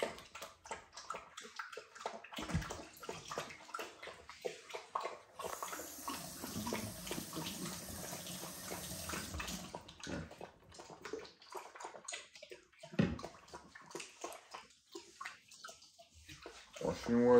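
Running water splashes and sloshes in a sink as an American Bully puppy stands in it for a bath, with a steady faucet stream in the middle and people talking throughout.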